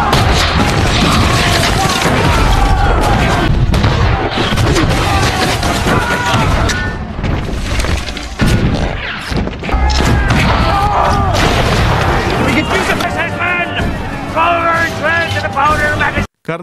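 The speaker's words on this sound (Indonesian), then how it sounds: "Mereka terlibat perang bom meriam dan pertarungan sengit." Loud, chaotic pirate naval battle soundscape with repeated booming cannon blasts, crashes and thuds, mixed with shouting voices and dramatic music throughout.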